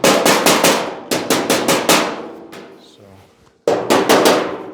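Hammer blows on sheet metal for a scratch-built hood on a 1940 Ford-inspired hardtop coupe, struck in quick rhythmic bursts of sharp ringing hits, a short pause, then another fast volley, loud and close.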